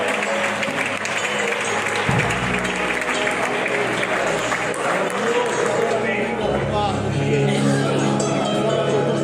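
A church congregation claps steadily and loudly for several seconds during a worship service, with a voice calling out over the crowd.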